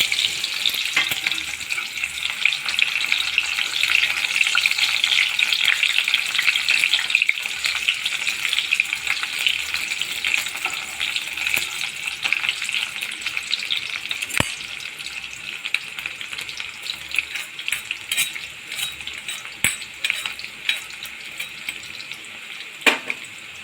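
Finely chopped onion fries in oil with popping mustard seeds, giving a loud, continuous close sizzle with scattered crackles and occasional stirring, and nobody speaks.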